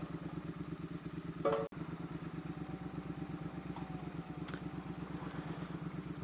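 Triumph Thruxton R motorcycle idling with a steady, even low thrum, one sharp clunk partway through as the new clutch engages, then the engine carries on chugging at low revs.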